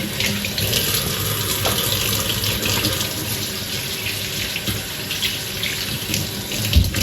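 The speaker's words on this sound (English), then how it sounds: "So I'm just gonna wash off my hands." Tap water runs steadily into a sink while hands are washed during sushi rice preparation, a loud continuous splashing hiss with no talking.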